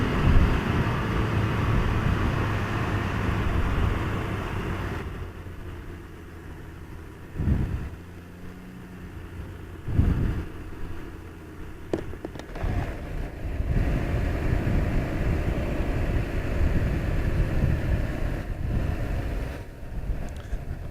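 A 2019 Can-Am Ryker three-wheeler runs at full throttle, its engine a steady loud drone swamped by heavy wind rush, easing briefly midway before surging back on.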